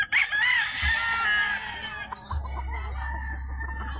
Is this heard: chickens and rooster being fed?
yes